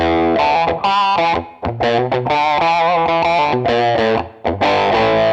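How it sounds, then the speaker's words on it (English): Electric guitar, a 1986 PRS Custom with its two pickups out of phase, with a thin, nasal, hollow tone, played in a steady run of chords and single notes, close and loud with no voices. "takes the two pickups and puts them out of phase with each other, which makes for a real telly kind of real thin sound"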